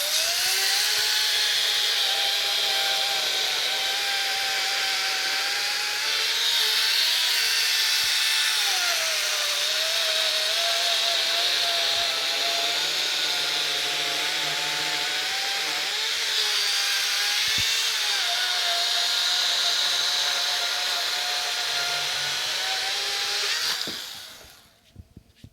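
A power saw cuts steadily through a green pecan log being trimmed for bowl turning, its motor whining loud and close with slight pitch sags under load for about twenty-three seconds before spinning down.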